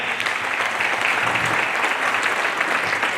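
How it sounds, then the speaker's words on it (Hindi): Vigorous applause from an audience at a welcome ceremony, a dense continuous wash of clapping that holds steady and close for the whole short stretch. "इन सब के लिए भी एक बार जोरदार तालियां"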